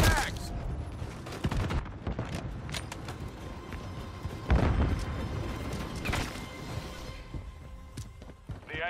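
Gunfire in the multiplayer video game Call of Duty Modern Warfare III: rapid, crackling bursts of automatic fire and sharp shots sound through a dense, busy battle mix, with in-game voice callouts heard under the shooting.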